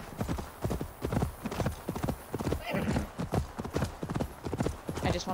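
Quick, rhythmic hoofbeats from a horse galloping in Assassin's Creed Valhalla's Ireland expansion, Wrath of the Druids. The loud clip-clop drums on without pause, and a faint neigh and a voice sit partly under it.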